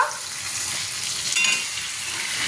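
Lote fish curry is stirred in a hot pan, with a dense, steady sizzling hiss and soft scraping as the spoon moves through it, close and fairly loud with no talking.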